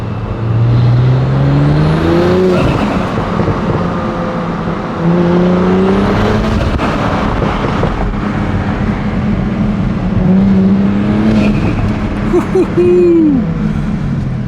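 A modified 2022 Audi S5 Sportback revs repeatedly through its exhaust, rising and falling in pitch several times, loud and close with wind noise underneath.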